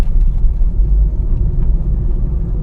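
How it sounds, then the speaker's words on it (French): A car passes on the road, a steady low rumble that stays loud and close for the whole stretch, with no voices. "je laisse passer la voiture"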